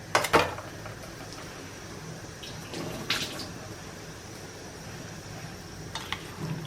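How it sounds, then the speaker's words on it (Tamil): Water drains from cleaned chicken pieces, a soft continuous trickle and splash close by, punctuated by a few brief clatters and drips. "நல்லா அதில் இருக்கிற தண்ணி எல்லாத்தையும் ட்ரெயின் பண்ணிடலாம்."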